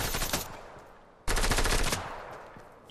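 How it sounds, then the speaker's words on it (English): Automatic gunfire from the video game Fortnite during a squads match, two loud close bursts of rapid shots, the second after a short gap, each tailing off into echo. "Someone's shooting at me."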